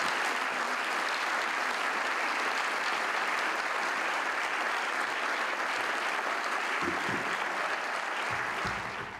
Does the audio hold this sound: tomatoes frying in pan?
no